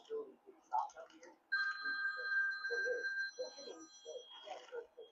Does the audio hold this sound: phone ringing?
yes